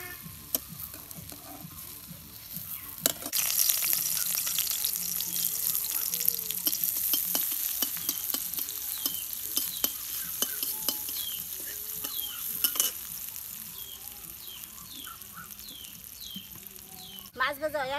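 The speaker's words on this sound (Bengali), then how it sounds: "মাছ ভাজা হয়েছে, এখন আমি নামিয়ে নিব।" Fish frying and sizzling in a pan while being stirred, with steady crackle throughout and sharp scraping clicks of the utensil at intervals; birds chirp faintly in the background.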